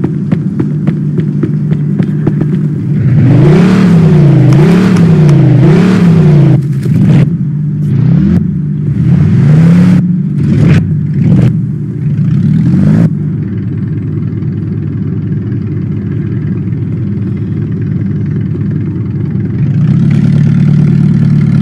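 A car engine in the Mafia 2 video game starts and revs with rising and falling pulls, then settles into a steady low drone while driving, loud and close with no talking.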